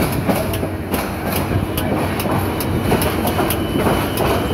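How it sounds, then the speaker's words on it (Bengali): The Mohanagar Godhuli intercity train on the Dhaka–Chittagong route pulls into Dhaka Kamalapur station at night, giving a loud, steady rumble with rhythmic wheel clatter throughout. "ট্রেনটির সর্বশেষ স্টপেজ ঢাকা কমলাপুর রেল স্টেশনে প্রবেশ করছে মহানগর গোধূলি"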